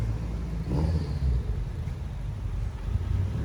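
A 700+ hp Mitsubishi Evo approaches, its engine a steady low rumble with a brief swell in the middle, heard alone without talk.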